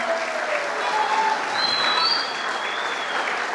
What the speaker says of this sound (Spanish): quiero dar un fuerte aplauso a Fernando y Gisela